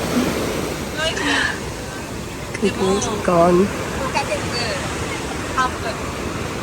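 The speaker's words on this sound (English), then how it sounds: "Usually waves are not so big." Ocean waves breaking at Waikiki on Oahu, Hawaii: a steady, broadband wash of surf and wind noise runs throughout, while someone talks close to the microphone over it.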